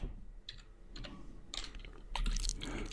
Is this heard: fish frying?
no